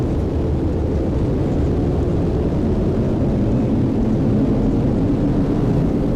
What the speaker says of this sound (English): Ignition! Release. And liftoff! We're off and away with Boeing's Crew Flight Test.